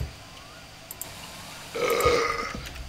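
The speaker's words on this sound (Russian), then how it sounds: "Молодец. Рыгнул так рыгнул." A video game character lets out a single loud, drawn-out burp after drinking, following a quiet stretch with a couple of faint clicks.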